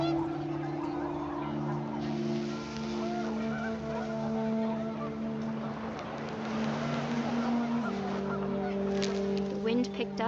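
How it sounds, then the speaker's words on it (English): Panicked geese honk in a windy outdoor scene of the video game What Remains of Edith Finch, their calls layered over steady tonal game music and a whooshing, rumbling background that carries on throughout. "The wind picked up and panicked geese appeared and quickly went."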